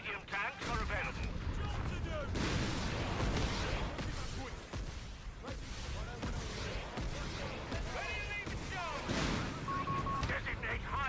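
An artillery barrage from a decapitation strike in the Company of Heroes strategy game sends heavy booms and rumbling explosions through a steady, dense battle roar, heard under continuous talking.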